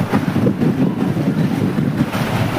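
Sea waves roll onto the shore under strong gusting wind that buffets the microphone, a loud, constant rushing wash with no voices.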